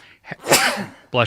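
A single sharp sneeze close by, preceded by a quick inhale and followed immediately by someone starting to talk.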